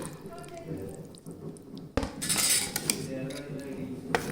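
Chicken pieces being mixed with masala in a bowl for hotel-style chilli chicken, with soft squishing and clinks of a utensil against the bowl, a sharper knock partway through, under low background noise.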